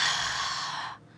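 A narrator's voice imitates loud, breathy panting: one long, strained exhale held for about a second before cutting off abruptly, close and alone with no other sound.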